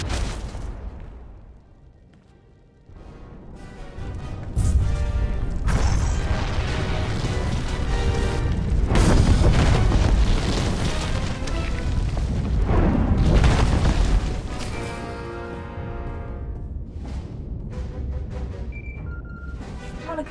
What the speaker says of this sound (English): Set off the bomb